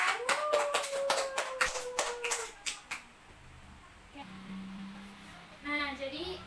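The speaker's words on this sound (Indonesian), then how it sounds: "Tepuk tangan buat Niken." A class of students claps for a classmate, a burst of scattered hand claps for about three seconds that quickly fades, followed by quieter room sounds and a voice.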